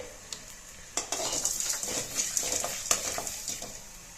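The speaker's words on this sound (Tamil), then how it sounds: "துருவி வச்சுருக்க தேங்காய் துருவில் சேர்த்து நல்லா வறுத்து எடுத்துக்கலாம்" Grated coconut roasting in a pan for Kerala-style onion theeyal, with soft sizzling and a spoon scraping and stirring against the pan in short, close scrapes.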